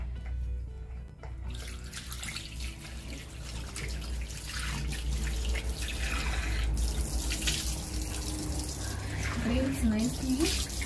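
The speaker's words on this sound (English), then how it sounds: "So after that, you're going to rinse this off." Water running from a tap and splashing as a face is rinsed during a skin care routine, a steady wash with a voice talking over it.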